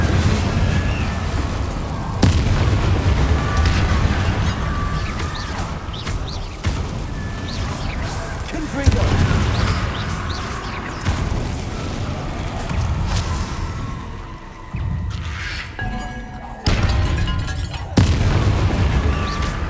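Repeated booming blasts of an Incendio fire spell in Hogwarts Legacy, several loud whooshing bursts spread across the stretch amid heavy combat noise, no talking.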